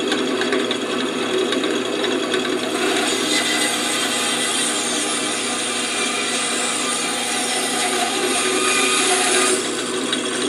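A 3x3 walnut block cut from firewood is sawn diagonally with the grain, giving a continuous, close, raspy sawing sound with a ratcheting texture.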